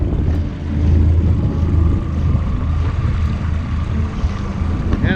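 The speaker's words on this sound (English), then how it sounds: "we're going to dinghy over to our friends' boats" A dinghy's outboard motor hums steadily while motoring across the water to nearby boats, with wind buffeting the microphone throughout.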